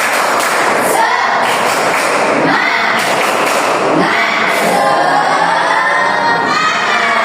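Schoolchildren in a classroom perform a rhythmic spirit clap, bursts of clapping and thuds mixed with loud group shouting and cheering that fill the room throughout.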